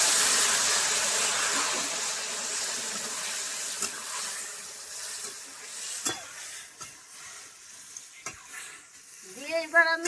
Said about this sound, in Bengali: এবার আমি এইভাবে নাড়াচাড়া করব 5 মিনিট মতো